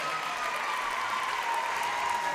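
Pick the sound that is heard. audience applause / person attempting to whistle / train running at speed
audience applause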